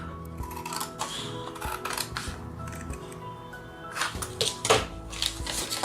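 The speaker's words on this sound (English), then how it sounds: "it's time to cut the last flap" Scissors cut a paper flap while an explosion box is made by hand, producing a quiet series of crisp snips and ticks with small taps and rustles in between.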